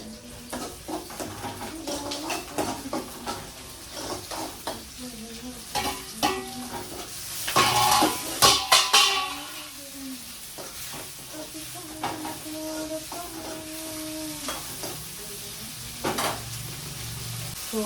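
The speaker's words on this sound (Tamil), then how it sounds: "பத்து மிளகாய்க்கு அந்த சவுண்டு ஓகே நீங்கள் பயந்துட்டீங்களா" Chillies frying in a pan, a burst of crackling sizzle in the middle over a steady background of stirring and light frying noise, close and moderately loud, with no talking.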